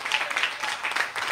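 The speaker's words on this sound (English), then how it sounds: "Clap for yourself." A church congregation claps together in a steady patter of many hands, moderately distant, sounding like a scattered round of applause at a prayer service.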